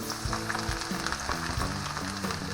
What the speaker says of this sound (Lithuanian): Kepsim šampinionus ant karšto aliejaus